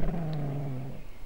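Dogs in the video game Shadow of Memories give a low, steady growl that holds for about a second before fading, close and clear with no other sound.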